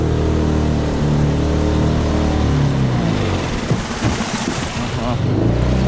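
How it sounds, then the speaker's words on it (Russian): An outboard motor drives a small boat up a taiga river in May, a loud, close engine drone that shifts in pitch, with a brief knock partway through as the motor bumps. "Сейчас небольшой ударчик будет мотора"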